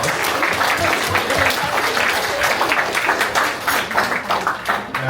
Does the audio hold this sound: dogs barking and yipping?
no